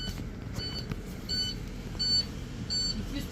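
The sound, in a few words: school bus child safety alarm beeping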